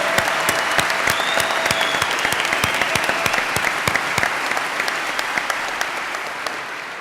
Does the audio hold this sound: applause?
yes